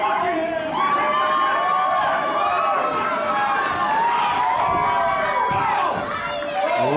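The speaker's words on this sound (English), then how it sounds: "Listen to this crowd in our main event tonight." Loud, sustained crowd noise at a PowerSlam TV professional wrestling main event, with cheers, whoops and shouting swelling continuously over a dense roar, a commentator's voice faintly mixed in.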